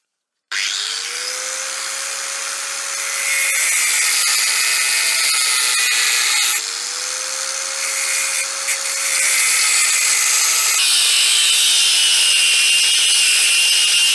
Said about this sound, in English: I'm going to first roughly angle grind a chunk out, just to get most of the metal away